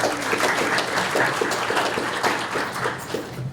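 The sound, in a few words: audience applause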